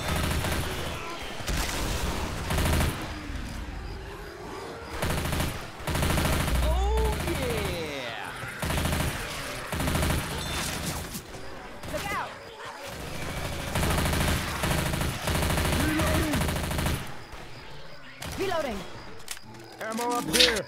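Gunfire from a gun in Left 4 Dead 2 on the Dark Waters map: rapid, dense bursts of shots repeat through the whole stretch, mixed with game noise and voices talking over them.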